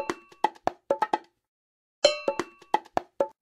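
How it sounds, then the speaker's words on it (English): Bongos and cowbell from a Dora the Explorer music game play two short rhythmic phrases of bright, quick strikes, with a ringing metallic cowbell tone among the hand-drum hits, clear and alone. "The bongos and cowbell add percussion to our song."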